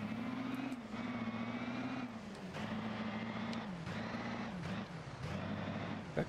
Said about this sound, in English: This is the Detroit diesel sounds